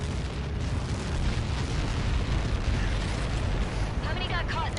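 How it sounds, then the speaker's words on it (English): A missile impact in Ace Combat 7 explodes as a loud, sustained rumbling blast that churns throughout, with radio-style voice chatter under it near the end. "How many got caught in that explosion?"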